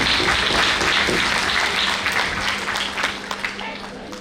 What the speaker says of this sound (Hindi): वैसे हमारी तरफ से भी एक ताली सत्येंद्र त्रिपाठी जी के लिए बजनी चाहिए।